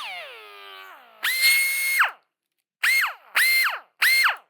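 An air-powered metal bevelling tool first winds down with a falling whine, then screams in four sharp bursts at full throttle, each loud, high-pitched blast separated by silence.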